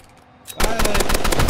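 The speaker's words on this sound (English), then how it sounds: "Boom! Headshot!" Rapid bursts of video game gunfire erupt after a quiet start, loud and dense automatic shots continuing to the end in a rival-hunting shooter match.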